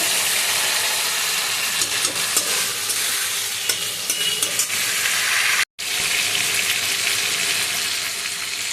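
Water hits hot oil and spices for a pomfret curry with aloo and brinjal, giving a loud, continuous sizzle and bubbling, with stirring clatter close by and a brief cut partway through.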